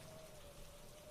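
Steady rain falls as a soft, continuous wash of patter, faint and even throughout with no voices.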